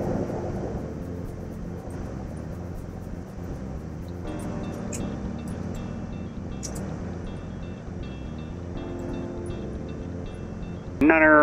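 A Cirrus SR20 light aircraft's piston engine drones steadily on the ground as it taxis for takeoff, a constant close hum throughout with a louder surge near the end.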